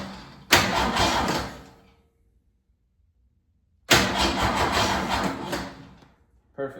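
An engine is cranked and caught twice in a row through a newly wired switch panel, each attempt a loud, close burst of cranking turning into a brief rough run before cutting off, with silence between and a third start beginning at the end.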